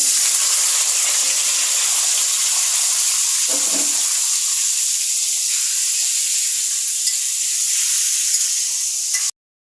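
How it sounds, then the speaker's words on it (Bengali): Potatoes frying in oil for a fish curry give a strong, steady sizzle and hiss, close and loud, with a brief stirring clink midway and no talking. "এখন আমরা আলুগুলো ভেজে নিচ্ছি"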